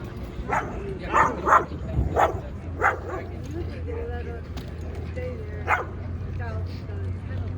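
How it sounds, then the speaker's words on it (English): Siberian husky barking and yipping in several sharp bursts, clustered early and then spaced out, heard over steady background noise with people talking nearby. "Siberian husky."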